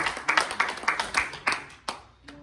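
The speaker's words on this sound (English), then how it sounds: "Give him a hand clap and be seated." A church congregation claps during a worship service, a run of about eight sharp, uneven hand claps close by that thin out and trail off near the end.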